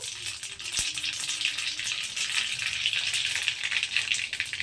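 Mustard seeds frying in hot mustard oil make a constant close sizzle with fine crackling and popping, plus a single brief knock near the start.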